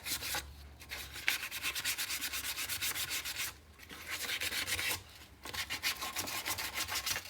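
220-grit sandpaper rubbing over the skirt of a Star Wars helmet, rapid rhythmic back-and-forth scratching strokes close up, in bursts with brief pauses, no talking.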